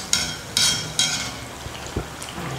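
Murukku fries in hot oil, sizzling steadily while a few sharp clattering bursts of a utensil against the pan break through near the start.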